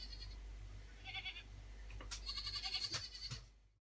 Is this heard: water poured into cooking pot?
no